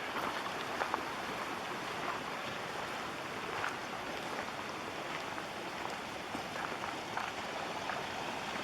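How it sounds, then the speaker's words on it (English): A creek flows beneath the deck of an old abandoned house, giving a steady, soft rushing wash of water throughout with no talking. "This creek runs right under the deck of this old ghost house."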